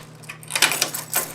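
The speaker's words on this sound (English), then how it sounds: "I have the keys in my pocket." Keys jangle in a pocket or hand in a few quick metallic bursts of chiming clinks, close and fairly quiet over a steady low hum.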